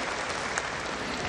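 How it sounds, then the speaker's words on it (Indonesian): Audience at a regional convention event in Yogyakarta claps steadily in a dense, even burst of applause, heard alone and fairly faint. "Tepuk tangan untuk Profesor Dr. Haryono Suyono."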